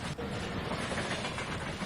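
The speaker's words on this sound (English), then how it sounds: "A big express train." An express train rushes past in the Euro Truck Simulator 2 driving game, a loud, continuous roaring rumble with a broad hiss and faint rhythmic clatter, filling the whole moment.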